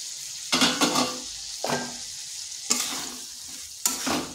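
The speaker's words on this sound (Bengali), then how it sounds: "ভালোভাবে মশলার সাথে কষিয়ে নিতে হবে।" Potatoes and taro chunks fry with cooked-down spice paste for a vegetarian curry, sending up loud bursts of spatula scraping and sizzling every second or so over a quieter steady frying hiss, with no voices.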